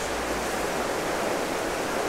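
A cold, spring-fed trout creek rushes steadily close by, a continuous even wash of flowing water with no voices over it.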